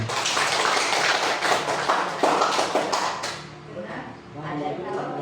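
A group of teachers at an Indonesian school clapping together, a dense burst of applause for about three seconds that then gives way to quieter room sound and talk.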